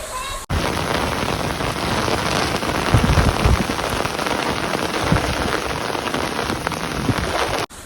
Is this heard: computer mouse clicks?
no